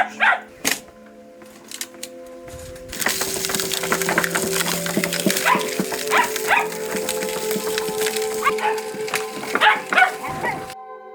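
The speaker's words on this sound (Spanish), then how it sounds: "¡Perro! ¡Perro! ¡Estos perritos!" Dogs bark in a rural village, a few sharp, fairly faint barks near the start and a cluster near the end, over a steady background hum and scattered knocks.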